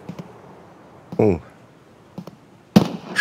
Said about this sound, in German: Schüsse im Holzlager.